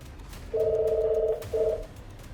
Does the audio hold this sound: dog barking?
no